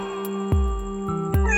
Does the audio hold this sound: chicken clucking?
no